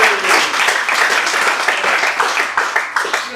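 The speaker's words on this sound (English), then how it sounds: "Give him a great round of applause from Ray White in Auckland" Loud, dense clapping fills a room as an audience at an onsite property auction applauds a Ray White agent from Auckland, a continuous close wash of many hands.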